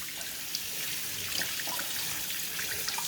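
Tap water runs steadily, a broad continuous hiss and splash from a faucet at about 30 degrees, rinsing the root ball of a variegated Monstera deliciosa over a container, with faint drips scattered through it.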